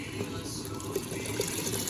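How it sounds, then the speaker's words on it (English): Fish stock poured into a cooking pot for yam porridge, a soft, continuous liquid splash and trickle at close range. "I'm going to add all the fish stock"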